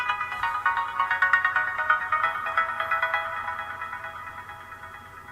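A SMOOREZ device plays its startup tune on booting up, a bright, rhythmic electronic chime of repeated tones that gradually fades out, with no talking.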